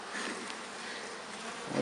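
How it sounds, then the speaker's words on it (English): Honey bees buzz around an open hive, a dense, continuous swarm hum filling the air close by, with no talking. "The way they're buzzing me."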